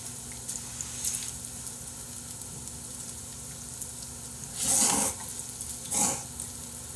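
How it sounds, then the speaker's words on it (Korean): Pork belly sizzles steadily in a hot pan, a constant fine crackle with two brief louder bursts of spitting fat. "이거 봐봐. 어? 아직도 지글지글하는 거 봐봐"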